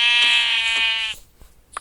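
A single long, nasal sheep bleat from Minecraft sounds close and loud in a synthetic, game-like tone, then a few soft clicks follow.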